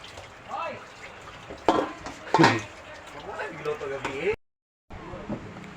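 A cooking pot and utensils are washed under running water after boiling, with uneven splashing and a few sharp clanks of metal and dishes. People talk over the washing, and near the end there is a brief silent gap.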